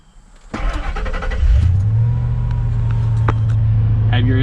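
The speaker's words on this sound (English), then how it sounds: "You want to crank your vehicle up" A 1999 Ford F-150 engine cranks briefly and catches, then settles into a steady, close idle hum.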